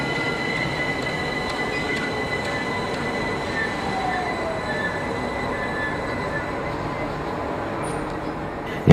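A London Overground DC third-rail electric multiple unit on the line toward Clapham Junction gives a steady, loud rolling rumble with faint wheel squeal and electrical whine, continuous for about nine seconds without talk.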